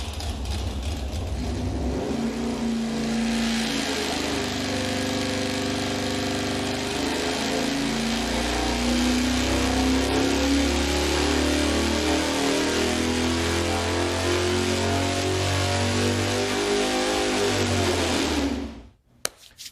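Engine with a conventional electronic ignition control running steadily on a dyno, loud and sustained with rising revs toward the middle, then cut off abruptly near the end.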